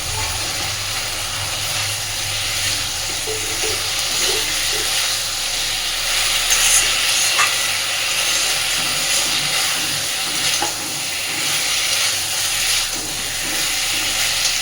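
Fried shankar fish (stingray) goes into a simmering spicy gravy thinned with a little water, giving a loud, steady, close sizzle and hiss that runs throughout with slight swells.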